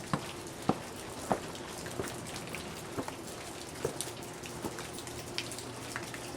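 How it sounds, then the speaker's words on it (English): Heavy rain pours steadily outdoors on a January trip in Vermont, a dense continuous hiss broken by scattered sharp drops and splats hitting nearby surfaces, with no talking. "Raining like crazy."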